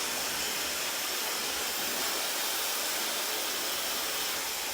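A hair dryer with a magnetic nozzle blows continuously with a loud, even, breathy whoosh, steady from start to finish with no talking.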